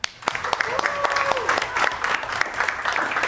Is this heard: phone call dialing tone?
no